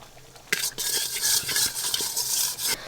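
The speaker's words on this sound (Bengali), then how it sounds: "হাঁড়িতে আমি প্রথমে ঘি দেব।" Ghee goes into a cooking pot for chicken biryani, and after a brief quiet a bright sizzling hiss bursts up with light scraping and stirring close by.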